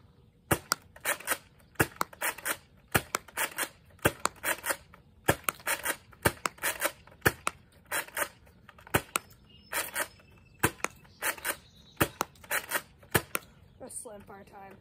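A Nerf Zombie Corrupter blaster fires repeatedly downrange, a rapid series of sharp clacking shots with pump-action rattles between them, close and fairly loud, with speech occasionally heard.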